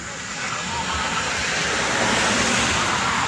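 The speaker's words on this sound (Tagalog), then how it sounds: "sobrang ingay ng mga sasakyan." Dense road traffic roars continuously nearby, a broad steady wash of engine and tyre noise.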